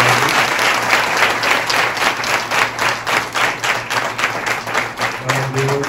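A church congregation claps together for the Father, Son and Holy Spirit, a loud, steady, rhythmic applause of many hands filling the room for several seconds.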